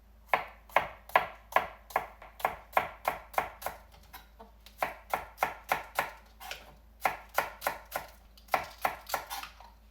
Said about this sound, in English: we're going to cut it smaller to use as garnish